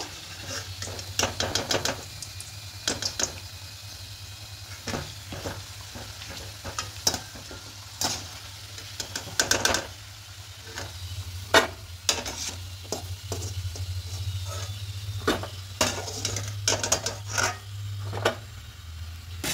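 Sattu khasta kachoris deep frying in oil over a low gas flame, a bubbling sizzle broken by dense rattling scrapes and clacks of a utensil moving through the pan, close and busy.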